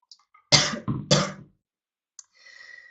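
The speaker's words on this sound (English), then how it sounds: "Got to clear my throat before the numbers." A few harsh throat-clearing bursts in quick succession, close and fairly loud, followed by quiet breathy noise.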